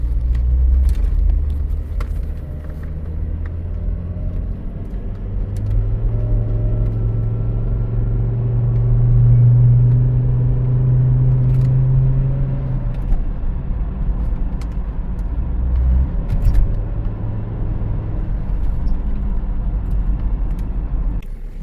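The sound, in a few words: Volvo XC70 car driving on test drive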